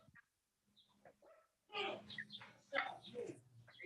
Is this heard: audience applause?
no